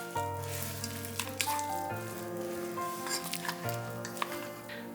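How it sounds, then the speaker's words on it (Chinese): Sizzling and stirring as a stir-fried mix is folded into sakura shrimp rice cake, a steady pan crackle with scattered scraping and clinking under low background music. "再倒入一半的炒料，稍微搅拌一下"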